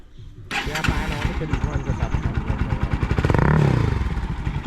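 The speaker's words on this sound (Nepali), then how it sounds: "अब बाइक स्टार्ट गरौँ, एक्जस्ट पनि लगाएर हिँडेछु" A motorcycle with its exhaust fitted kicks into life after a quiet moment, then settles into a fast, even putter close by and swells in a brief rev, with a voice talking.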